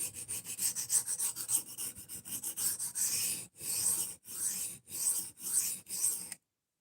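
Knife blade being sharpened with steady rhythmic rasping strokes, quick and close at first, then slower separate passes with short pauses between them, no talking.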